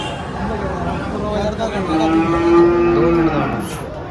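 HF cows moo at the Dhule cattle market, one long low call rising out of a busy crowd murmur, with people talking nearby.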